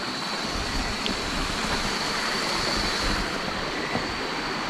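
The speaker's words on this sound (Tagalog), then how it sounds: "nandun yung talon mga ka-explore kaya maingay itong paligid ang tubig maingay talaga" Steady roaring rush of falling water, a dense continuous wash of noise with no pauses and no voices.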